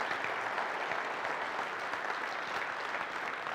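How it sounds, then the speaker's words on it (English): A keynote audience at a Wi-Fi conference gives sustained applause, a dense, steady wash of many hands clapping at even volume for several seconds with no talk. "So I would really love it if you would give them a hand clap"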